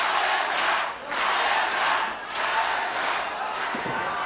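A wrestling crowd at an FMW event chants for Hayabusa in loud, rhythmic surges, the voices swelling and dipping in repeated waves that fill the arena.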